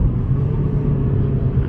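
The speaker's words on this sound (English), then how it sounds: "Okay, another downshift to 2nd." A 2019 Honda Civic Sport with its muffler deleted drones in a low, steady rumble from inside the cabin as it downshifts into second gear, the engine note throaty and even.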